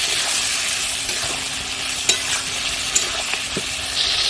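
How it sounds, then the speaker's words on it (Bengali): Chicken pieces with onion and spices stirred and fried in a pan, a steady close sizzle with scraping stirs and a few sharp clinks of the spoon, no talk. "তো মশলা দিয়ে যেমন ধর নাড়াচাড়া করতে হয়"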